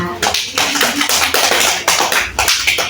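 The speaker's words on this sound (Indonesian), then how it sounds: "tepuk tangan buat Nia" Schoolchildren in an early-grade mathematics class clap for a classmate, loud dense clapping in quick rhythmic bursts with some rustling and faint voices mixed in.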